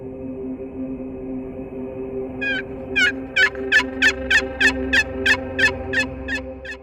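Wild turkeys gobbling on an Alberta ridge: a rapid run of about a dozen sharp, rattling gobbles, fairly close and clear, over a steady low background hum.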